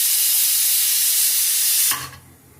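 A pressure cooker whistle releases steam at home in a kitchen while dal cooks, a loud steady hiss lasting about two seconds before cutting off abruptly into quieter room tone.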